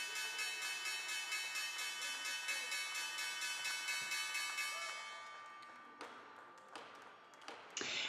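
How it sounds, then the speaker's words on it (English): A stock exchange closing bell rings steadily for about five seconds as a sustained metallic clang, then fades into scattered taps and thumps of a trading floor, moderately quiet. "Here's a closing bell."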